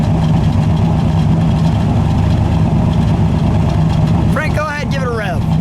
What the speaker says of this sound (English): The dual exhaust got a nice little rumble to it.